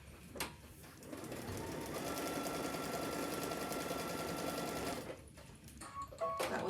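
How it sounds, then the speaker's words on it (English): A sewing machine stitches a seam on a quilt panel, running in one steady, close, continuous whir for a few seconds before stopping, followed by faint handling clicks. "All right, then we're going to sew on line number 4."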